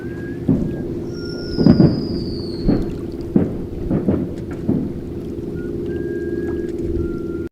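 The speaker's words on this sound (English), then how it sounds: "edit a little video of the fireworks and the whistling noise" Dull booming firework bursts thud at irregular intervals over a steady low hum, while a thin high whistle glides downward and fades.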